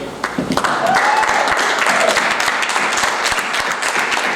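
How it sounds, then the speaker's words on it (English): An audience at an academic workshop gives a big round of applause welcoming Deacon Ike to speak, dense, close clapping that swells quickly and holds steadily, with faint voices underneath. "let us give him another very, very big round of applause for Deacon Ike"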